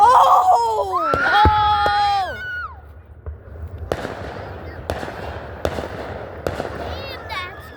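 4th of July fireworks bursting outdoors: several sharp bangs and crackles with whistling rising tails early on, then a run of spaced single booms, with people exclaiming and laughing throughout.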